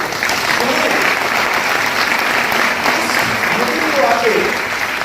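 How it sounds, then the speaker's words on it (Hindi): Loud, sustained applause from a seminar audience in Ranchi, Jharkhand, honouring Deepak sir, a dense steady wash of clapping with a faint voice underneath throughout. "मैं एक जोरदार ताली चाहता हूं दीपक सर के लिए"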